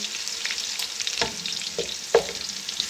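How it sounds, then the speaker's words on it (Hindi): Soft sizzling of ginger garlic paste frying with onions in a pan, with a few scraping stirs and clicks of a spoon. "और इसको भी 3-4 मिनट भूनेंगे कि लहसुन का कच्चापन ख़त्म हो।"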